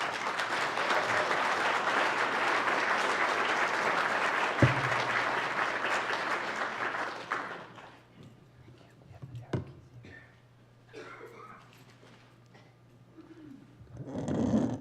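Audience applause welcoming Dr. Julie Decker at an arts and environment lecture, dense steady clapping for about seven seconds that then fades, leaving scattered quiet room noise and a few voices.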